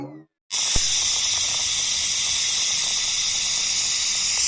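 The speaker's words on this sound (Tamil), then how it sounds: "விசிலு வந்துருச்சு." A pressure cooker on a home stove lets out a steady, loud hiss of steam that starts abruptly and holds for several seconds without a break.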